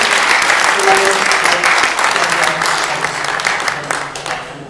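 Conference audience applauds a panel at a business event, a loud, dense round of clapping from many people that slowly tapers off, with faint voices beneath.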